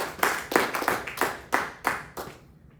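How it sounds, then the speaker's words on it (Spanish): A church congregation claps in scattered, uneven bursts of hand claps that come in several waves and fade out near the end, with no voices over them. "Denle un aplauso al Señor."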